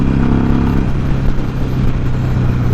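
A Ferrari sports car drives past on a town road, heard from a passing Harley-Davidson Sportster motorcycle: a steady, loud engine roar blended with the bike's own rumble throughout.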